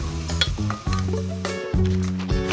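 Diced bacon, onion and celery sizzle steadily in a pot, a continuous frying hiss with light clinks, set against sustained tonal background music.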